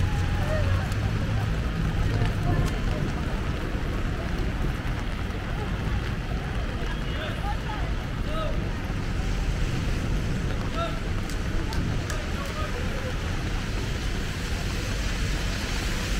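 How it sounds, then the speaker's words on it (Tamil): Steady hiss of rain falling in Dubai, a dense, continuous wash of noise with gusty wind rumble, heard close and unbroken throughout. "எப்படி இருக்கு பாருங்கள் துபாயில் மழை."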